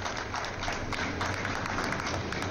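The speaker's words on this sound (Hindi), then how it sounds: "एक बार अभिनंदन करें तालियों से।" A crowd at the inauguration of a jewellery show in Jaipur, Rajasthan, claps continuously in a dense, moderately loud patter that holds steady throughout.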